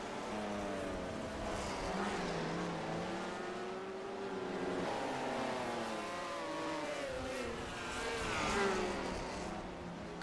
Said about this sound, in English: just listen to how he's working that throttle through these corners